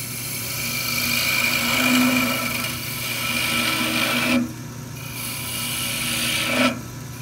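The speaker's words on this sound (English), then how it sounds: "I'm going to come back with that little detail gouge. Lay the bevel on." A detail gouge cuts a spinning wooden top on a lathe with a continuous scraping, rasping hiss that swells and fades, cutting out briefly twice before resuming, over a low motor drone.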